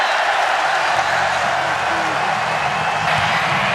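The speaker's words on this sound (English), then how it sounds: "Crowd in full throat." A packed stadium crowd roars at a college football game, West Virginia against Kansas State, in a dense, steady wash of cheering and scattered applause that holds for the whole stretch.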